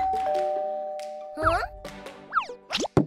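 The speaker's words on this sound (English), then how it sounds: "There was a doorbell." A doorbell chime sounds in a Roblox Rainbow Friends stop-motion cartoon, among bouncy, sliding cartoon tones, with a short two-note ding-dong pattern near the end.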